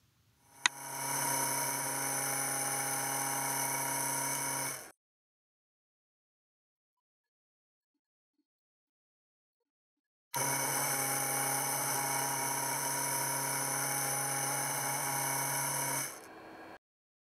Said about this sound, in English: The noise and vibration is greatly reduced when enabling the smooth drive feature of the CVT driver